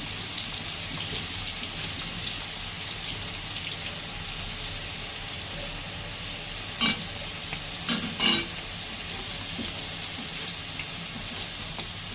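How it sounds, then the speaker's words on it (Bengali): Prawns fry in hot oil, making a constant loud sizzle with a few brief clinks and stirring sounds near the middle. "তো আমি চিংড়ি মাছগুলো এখানে তেল গরম করে ভেজে নিচ্ছি।"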